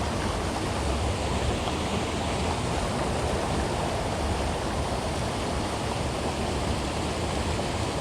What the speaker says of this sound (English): I hear some pretty big rapids up here.